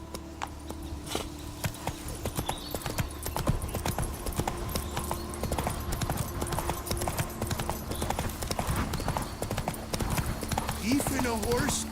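Horse hooves clip-clop steadily at a gallop in The Witcher 3: Blood & Wine, a busy rhythmic patter running the whole time under game music and spoken voices, with a brief whinny near the end.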